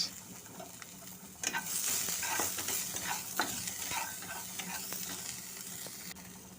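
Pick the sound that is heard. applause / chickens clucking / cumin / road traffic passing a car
cumin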